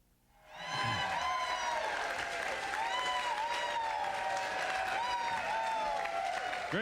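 A rodeo crowd at the 1993 Calgary Stampede breaks into applause that swells within a second and then holds as steady, fairly distant clapping, with whoops and cheers mixed in.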